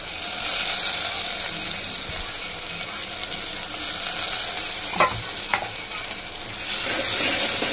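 Washed dried prawns sizzle steadily in hot tempering oil, with a few sharp scraping stirs of a spoon partway through; a continuous close, moderately loud frying hiss with no voices.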